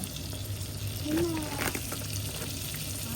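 Butter, cheese and flour stirred together in a pan for no-bake cheesy macaroni, a quiet steady sizzle with soft scraping and stirring throughout.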